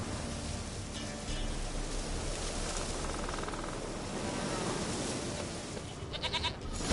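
A goat bleats in the video game The Witcher 3, heard over a dense, steady bed of rain-like ambient noise with a brief brighter call near the end.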